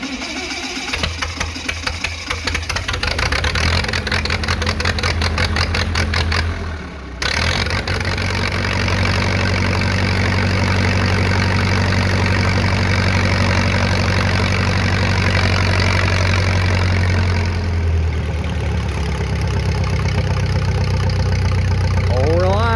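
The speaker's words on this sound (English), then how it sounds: "let's see if we can't get this old girl crank up." An old engine cranks with rapid chugging, catches and settles into a loud, steady idle close by, its rumble dipping briefly before running on evenly.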